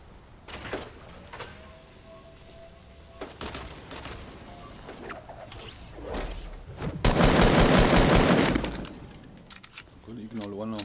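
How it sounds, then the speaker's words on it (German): Gunfire in the video game Fortnite: scattered single shots early on, then a loud sustained burst of rapid fire lasting a couple of seconds, with a player talking over the game sounds. "ich knall einen am anderen ab"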